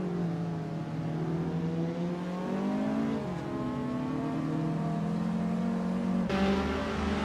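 In a racing video game, a classic 1966 Lotus Cortina Mark 1 race car accelerates off the line at the race start, its engine revving up steadily through the gears with a brief shift, loud and continuous.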